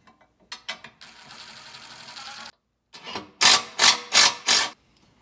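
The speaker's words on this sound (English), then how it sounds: "we're going to put our ball stud into the side of this plate here attached to the A-pillar" A ball stud is fitted into a mounting plate on a Can-Am Defender windshield's A-pillar, heard as close ratcheting clicks followed by a burst of four loud, rapid mechanical ratchet strokes.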